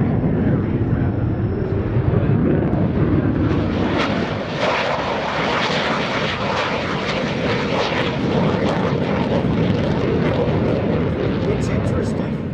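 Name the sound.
F-16 Fighting Falcon jet flying at an airshow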